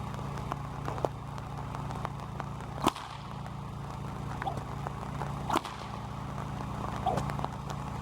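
A couple of sharp cracks from a Rattler whip snap out over a steady low engine-like hum, with faint clicks and rustles between them.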